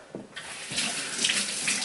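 Water runs steadily from a tap, a continuous hissing splash that grows a little fuller after the first moment, close by with no talking.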